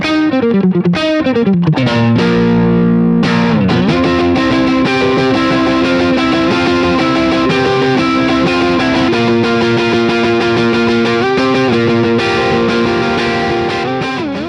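Electric guitar played through a Sonicake Sonic IR pedal on its Marshall cab setting, neck pickup, with a distorted, sustained lead tone of bends and melodic phrases that plays loud and continuous with no talking.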